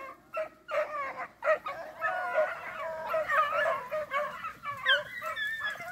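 Beagle hounds baying and yipping while running a rabbit at a speed and drive field trial, a close, continuous chorus of overlapping high cries and howls from several dogs.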